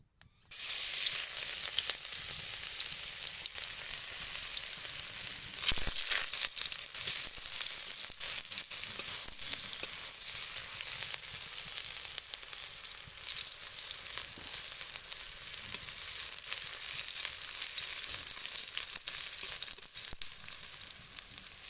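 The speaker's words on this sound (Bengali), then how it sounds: "তেলটা গরম হয়ে গেছে, এরপরে আমি রসুন ছাঁচাগুলো দিয়ে দেবো" Crushed garlic sizzles in hot oil for a side dish of fried leafy greens. A loud, steady hiss starts abruptly and holds evenly throughout, with no voices.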